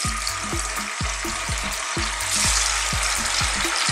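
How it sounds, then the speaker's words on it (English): Cubes of tofu fry in hot sunflower oil in a wok, giving a steady loud sizzle with repeated sharp scraping stirs and clatter at a quick, uneven rhythm, and nobody talks. "we're going to get it into some oil, and it will crisp up"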